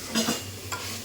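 Green chillies, coriander and mint frying in a pan for haleem, a soft steady sizzle with a couple of brief stirring scrapes near the start.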